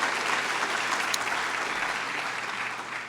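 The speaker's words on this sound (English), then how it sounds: "You can applaud that if you want." Steady, dense applause from an audience at an early college scholars celebration, continuous and loud with no pause.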